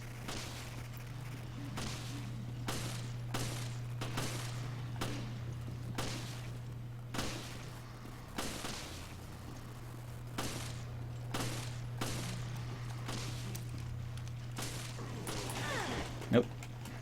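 Repeated bursts of gunfire in Resident Evil Revelations, played on a Steam Controller, come as steady rapid shots over a constant low hum across the whole stretch, with one sharper crack near the end.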